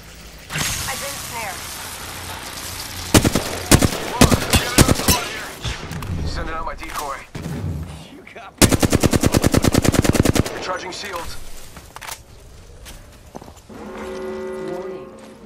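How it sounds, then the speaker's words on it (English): Bursts of automatic and single-shot gunfire in the battle royale game Apex Legends, with a long rapid burst mid-clip, loud and close, mixed with game effects and player talk. "Shots fired."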